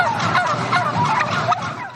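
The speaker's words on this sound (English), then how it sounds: "raising a flock of all-natural turkeys" A flock of all-natural turkeys on a Maryland farm gobbles in dense, overlapping bursts, a close and steady chorus of calls with no talking.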